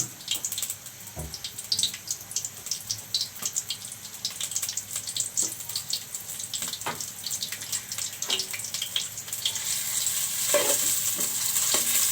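Chopped green chillies and onions fry in mustard oil for a fish curry, crackling and hissing up close with intermittent stirring knocks, the sizzle growing louder and denser toward the end.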